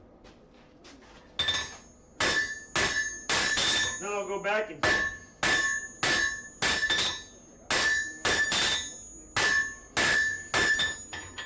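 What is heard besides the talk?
hammer forging steel spatula on anvil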